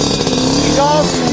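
Simson dirt bike engine on an enduro track, its throttle blipped up and then released, a buzzy two-stroke note rising and falling close by while someone talks over it.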